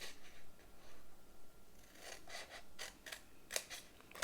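Scissors snip through paper along short score lines for an Andes Mints shadow box craft, giving soft crisp cutting sounds in a quick irregular series, close and very quiet.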